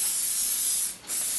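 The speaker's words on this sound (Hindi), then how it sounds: "थोड़ा सा स्प्रे लगाएंगे क्योंकि मुझे नीटनेस चाहिए सारे बालों में।" A working hair spray aerosol sprays onto hair while styling 1920s waves, a loud close hiss in one long burst with a short break before it resumes.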